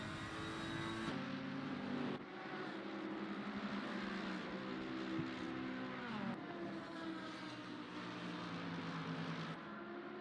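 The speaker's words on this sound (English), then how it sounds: "Does that car not just sound so beautiful when it purrs? What is that, a Ferrari?" Ferrari GT3 race car engine in Assetto Corsa Competizione at Zandvoort, a continuous smooth drone with shifting pitch as gears change, steady and fairly quiet with no talking.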